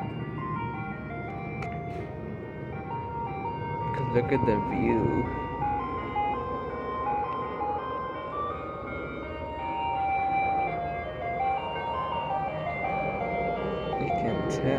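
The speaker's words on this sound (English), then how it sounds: "I found an ice cream truck that's playing the middle pitch, but it's not my ice cream truck." An ice cream truck's chime plays Turkey in the Straw at medium pitch, a repeating tinkling melody heard from nearby over a low motor hum, while a person talks over it.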